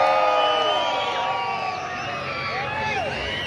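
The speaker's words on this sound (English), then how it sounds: "Let me hear somebody scream." A large crowd at an outdoor summer concert screams, whoops and cheers loudly and continuously, a dense wall of voices filling the space without pause.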